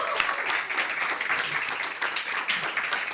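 An audience at a fintech festival applauds steadily, a dense, continuous wash of many hands clapping close by that holds at an even level throughout.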